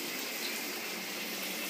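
A shower runs steadily in a home bathroom, a dense, even hiss of spraying water that stays close and constant, with no voices.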